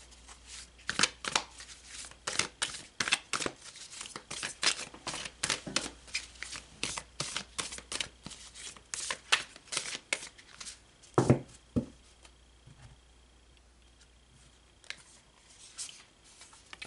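Tarot cards shuffled by hand in a steady run of crisp riffling bursts at close range, pausing briefly near the end before a few last scattered flicks, with no talking.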